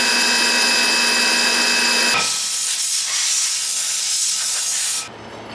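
A 3/16-inch bit drills centre holes into steel rings for ladder Damascus, giving a loud, steady high-pitched whine with hiss for about two seconds, then a rougher grinding cut as the bit bites into the steel until it stops abruptly near the end.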